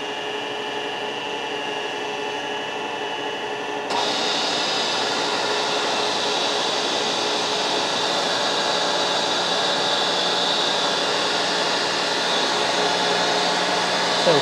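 A DoAll milling machine running its first cuts with a tool steel cutter, a loud steady whirring hum that steps up as the cut engages and then holds continuously without any voices.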